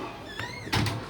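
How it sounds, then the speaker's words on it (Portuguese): An indoor door is pulled shut with a soft slide, followed by a louder thud as it closes. The room is otherwise quiet, with no talking. "Deixa eu fechar a porta."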